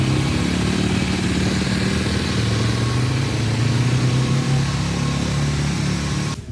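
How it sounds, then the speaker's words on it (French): Loud, continuous rumble of motorcycle engines warming up, idling and revving together, close by, with no break until a brief dip at the very end. "Là on voit où vous faites chauffer les motos,"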